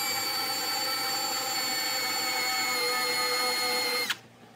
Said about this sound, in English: now I think I can get up into that one and get a pilot hole drilled in that